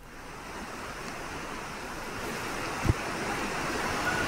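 The Batang Beringin river, flooded by a flash flood at Kampung Kubu Sungkai, rushes as a steady broadband roar with one short thump partway through and no speech.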